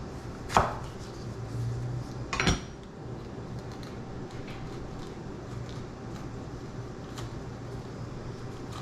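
A knife slices jalapeno peppers on a cutting board for canning: two sharp cuts early on, then a long stretch of steady low background hum with only faint ticks.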